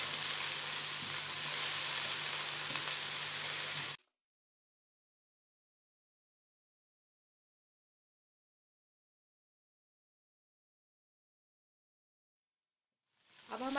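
Ginger-garlic paste fries in a pan with other ingredients, a steady close sizzle for a few seconds, then a long silence before the sound faintly returns.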